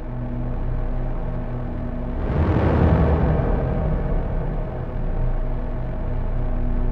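A dissonant synth runs through two Perfect Plate XL plate reverbs, one in C major and one in C minor. A dark, sustained drone swells to a dense peak midway, then settles back into a low, humming wash.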